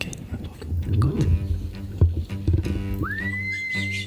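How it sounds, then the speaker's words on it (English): A sharp whistle used as an attack signal during an African ape hunt with bows, rising then holding a steady high tone after low rustling, chewing-like noises and brief voices. "A whistle."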